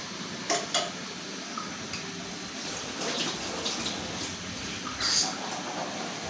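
Loitta fish bhuna being stirred gently in a pan, with soft scraping and wet, sizzling textures running continuously and a few brighter clinks of the utensil against the pan, close and moderately loud.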